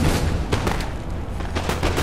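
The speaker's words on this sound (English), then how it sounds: "But he's really firing down my Prussian Fusiliers." Musket volleys from Prussian Fusiliers in a Napoleonic battle video game, a rapid irregular crackle of shots over a rumbling battlefield din.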